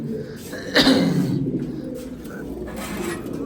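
Pigeons at a home loft, one low cooing call rising briefly and fading among soft rustling and shuffling, with faint background sounds and no clear speech.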